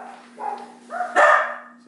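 Dogs in a home barking and yelping, a few short rising yelps building to one louder bark, close and without talk.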